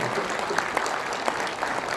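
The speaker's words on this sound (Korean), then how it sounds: "박수를 한번 보내주셔야 됩니다" Applause from the audience at a Korean public lecture, a steady dense patter of many hands clapping throughout, fairly loud and with no speech over it.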